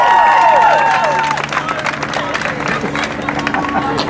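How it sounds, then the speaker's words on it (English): An audience at a magic show breaks into applause and cheering, loud clapping mixed with whoops and crowd noise, with a faint tonal sound fading at the start and voices chattering underneath. "Give Ella a massive round of applause."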